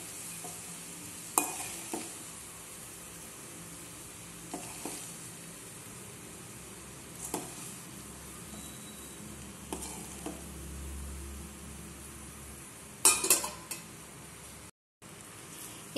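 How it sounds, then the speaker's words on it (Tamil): Rice being stirred into a fried egg mixture in a pan for egg rice, a faint continuous sizzle broken by several sharp scrapes and clinks of the spatula against the pan. "இப்போ இதில் நம்ம எடுத்து வச்சுருக்கிற ரைஸையும் தட்டிடலாம். தட்டிட்டு நல்லா கிளறி விடலாம்."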